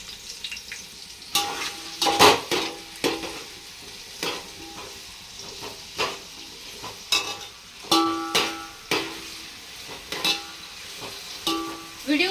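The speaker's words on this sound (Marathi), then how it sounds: "आता मी सगळा टाकते आणि तो छान असा मऊ होईपर्यंत भाजून घ्यायचा आहे फुल गॅसवर" Half a kilo of sliced onions frying on full gas for veg biryani, a soft steady sizzle broken by repeated sharp scraping stirs and utensil clinks in an uneven rhythm.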